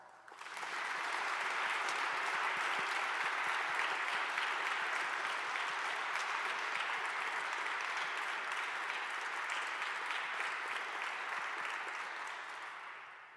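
An audience at an honors convocation applauds physics scholars, a dense, sustained round of clapping that swells in quickly, holds steady for several seconds and tapers at the end, with no voices over it.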